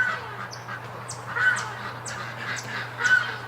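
Farm ducks give a series of nasal quacks and honks every half second or so, moderately close, over a steady low background hum, with no one speaking.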